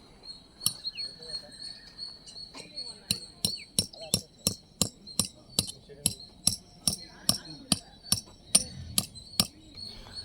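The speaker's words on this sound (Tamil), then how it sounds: "ஸோ இங்கே இப்போ ஆணி அடித்தாச்சு" Nails are hammered into a cricket mat in a fast run of about twenty sharp, ringing metallic strikes at a steady rhythm. The blows are close and clear over a quiet background.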